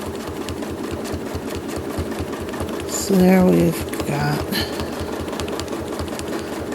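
A home sewing machine whirs steadily through free-motion quilting on a quilt block, its running drone carrying under a voice that speaks briefly over it.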